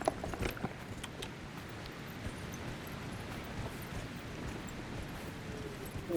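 Steady clip-clop of horse hooves while riding in Dragon Age: Inquisition, a continuous close rhythmic patter of hoofbeats over a low ambient bed, without talking.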